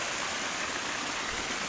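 Creek water flows steadily beside a hiking trail on Smith Creek, a continuous close rushing wash with no pauses.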